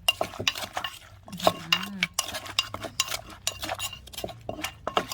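Ingredients with hog plum being stir-roasted in a pan: a metal spatula repeatedly scrapes and clinks against the pan in quick, uneven strokes under a light background sizzle.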